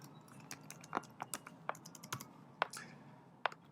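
A username and password are typed on a computer keyboard in quick uneven bursts of close, crisp key clicks, alone and fairly quiet.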